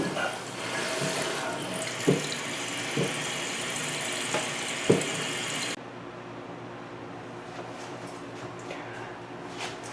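A toilet tank refills with water through its fill valve, a steady rushing hiss with a few knocks that suddenly drops to a quieter trickle partway through, heard close.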